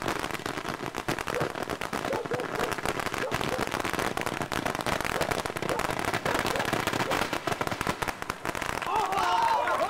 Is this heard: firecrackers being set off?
yes